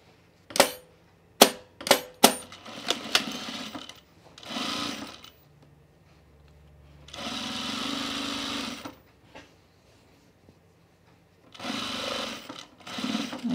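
A domestic sewing machine stitches the side seams and inseam of men's chino pants, running in several bursts of steady whirring broken by pauses, with a few sharp clacks near the start, close and alone.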